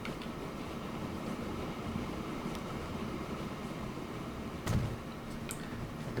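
A train running in the Transport Fever 2 video game, heard as a steady, quiet rolling rumble with one brief clunk near the end.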